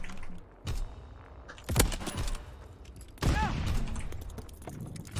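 Bursts of gunfire in a video game, a couple of sharp volleys separated by quieter stretches, with a brief voice between them.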